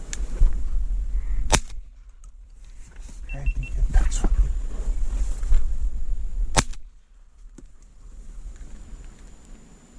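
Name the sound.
gunshot while duck hunting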